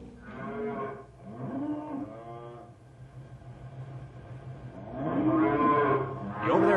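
Cattle low repeatedly in a staged Western ranch scene, long moos rising and falling in several drawn-out calls with a short pause between them, close and clear over a low steady background hum.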